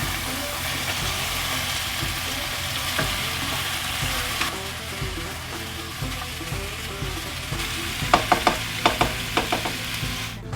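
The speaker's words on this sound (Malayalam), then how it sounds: "2 ബേ ലീഫ്, പിന്നെ കുറച്ച് ഗ്രാമ്പു. അത് നമുക്ക് നന്നായിട്ടൊന്ന് മിക്സ് ചെയ്ത് കൊടുക്കാം" Bay leaves and cloves frying in a pan for chicken biryani give a continuous sizzle, with scattered scrapes of stirring and a quick burst of sharp spoon clinks near the end.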